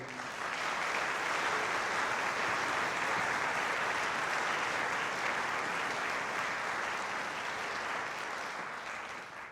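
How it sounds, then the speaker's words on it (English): Audience applause for a student soloist at a high school senior band and orchestra concert, a sustained dense clapping from a full hall holding steady for nearly ten seconds before tapering slightly, no voices. "Another round of applause for Skylar."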